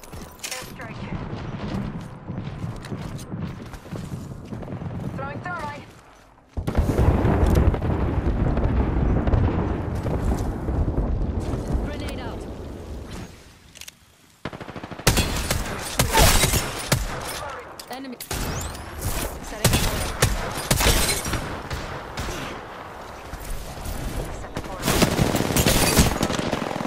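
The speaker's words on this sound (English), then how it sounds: "Airstrike." Airstrike explosions and gunfire in a video game: dense rapid automatic fire and heavy booming blasts, loud and close, in bursts broken by brief lulls, with voices speaking over parts of it.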